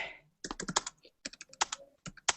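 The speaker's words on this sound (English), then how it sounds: "We all started a live hangout, and then we immediately started typing." Close, crisp keystrokes on a computer keyboard during a live online hangout, coming in quick bursts of clicks separated by short pauses, with no voices.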